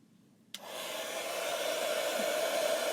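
Hair dryer clicking on and blowing steadily to dry chalk paste on a homespun flag tee, a loud continuous close whoosh that starts abruptly after a brief quiet moment.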